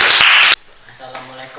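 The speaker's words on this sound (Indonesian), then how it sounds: "Oke, good. Tepuk tangan." A short burst of group clapping in a classroom teaching session, loud and dense for about half a second before cutting off abruptly, followed by quieter background voices.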